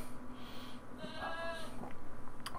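Several goats bleat during a live stream, wavering calls that overlap in short bursts at moderate distance, with pulsing background noise beneath.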